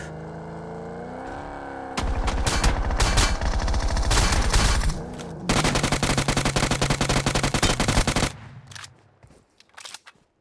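Rapid automatic fire from a Rex gun in the Fortnite video game, loud continuous bursts of shots with a short break between two long volleys, then fading into quieter game ambience.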